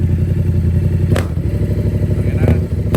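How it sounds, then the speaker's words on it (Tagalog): A Yamaha MT-07 motorcycle engine runs loud and close, throbbing steadily as it gets revved, with a couple of brief clatters over the rumble and no talk. "Try natin i-rev pump."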